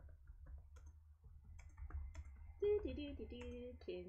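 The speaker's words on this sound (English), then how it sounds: "She is typing, typey" In the Doki Doki Literature Club video game, a character types on a keyboard, giving a fast run of light clicks and taps. Brief musical tones sound alongside the clicks near the end.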